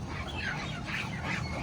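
Ducks quack in a quiet, fairly distant cluster, several soft nasal calls overlapping against a low background hum, with no talking heard.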